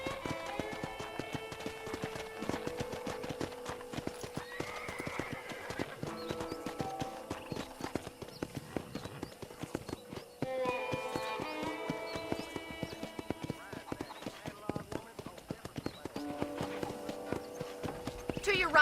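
Steady clip-clop of horse hooves at a trot in the video game Red Dead Redemption, rhythmic and close, with people talking over it and soft background music.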